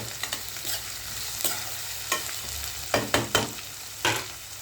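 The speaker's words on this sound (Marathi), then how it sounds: "कांदा चांगला गुलाबी होईपर्यंत चांगला भाजला पाहिजे" Chopped onion fries in a pan for upma with a steady close sizzle, broken by several sharp scrapes and stirs of a spatula against the pan, no talking.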